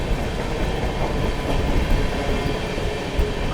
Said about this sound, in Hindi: यहाँ पे अपनी ट्रेन थोड़ी सी स्लो डाउन हो गई है क्योंकि ये रेलवे स्टेशन है पूरे कर्व में बसा हुआ है